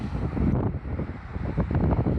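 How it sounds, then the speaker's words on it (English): Strong wind buffets the microphone outdoors at Stonehenge, a loud, gusty low roar that swells and dips continuously for a couple of seconds with no voices. "Well, it's windy out here"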